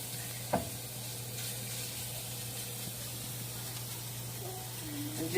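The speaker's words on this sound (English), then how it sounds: "add some more margarine and add the green beans. So you want to just stir them around." Green beans sizzle in melted margarine in a frying pan, a steady soft hiss with a low hum beneath, broken by a scrape of stirring early on and a few clinks near the end.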